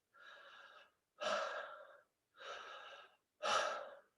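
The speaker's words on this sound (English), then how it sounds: "make sure that your breath becomes a circle, which sounds a little bit like this" Four deep, breathy breaths of connected circular breathwork alternate in and out, each about a second long with short pauses between, close and fairly quiet.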